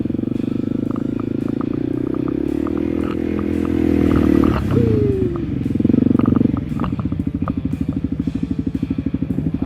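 A Honda CRF250L motorcycle rides through a puddle off-road, its engine holding a steady loud drone with a brief rising rev midway, then settling into a pulsing idle-like putter.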